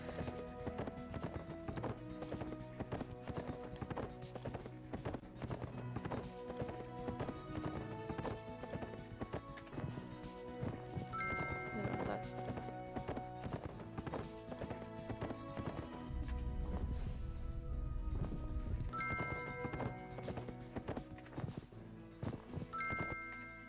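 Hooves clip-clop in a steady rhythm from a horse in the riding video game Horsez, with game music and occasional neighing layered over the trotting.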